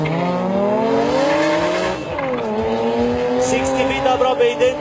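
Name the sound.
BMW E46 M3 Turbo and E30 2.5 Turbo racing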